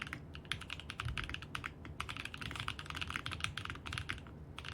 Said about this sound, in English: this is a really good sounding keyboard